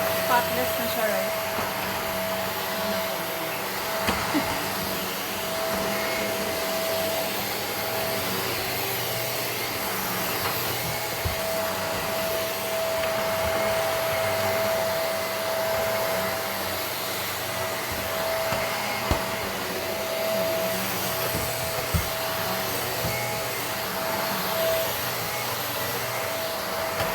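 Shark vacuum cleaner working over a rag indoors, a sustained loud motor drone with a steady tonal whine and airflow hiss, with occasional soft bumps and faint speech under the noise.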